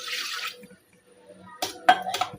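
A glass of water splashes into a pressure cooker in a home kitchen, with a brief pour at the start and more splashing toward the end, and a voice nearby.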